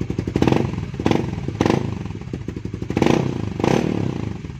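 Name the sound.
motorcycle exhaust revving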